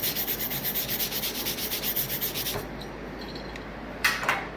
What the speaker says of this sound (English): to get this last bit of slag off, we just come in with the wire brush